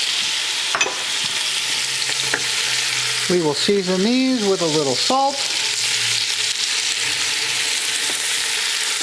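Onion, carrots and mushrooms sizzle steadily in a pan of seared chicken for coq au vin, a continuous close frying hiss while a voice speaks briefly in the middle.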